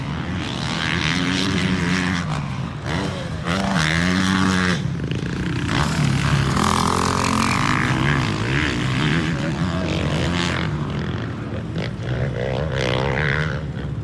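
A 2020.5 KTM 450 SXF Factory Edition motocross bike riding hard on a track, its engine revving and roaring continuously with shifting pitch through corners and jumps, loud and close throughout.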